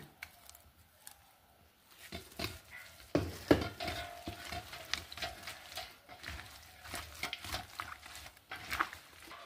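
Fenugreek, pepper, neem, asafoetida and salt are stirred by hand into a mixture, producing intermittent soft scraping and rustling strokes of varying strength close by, with no speech.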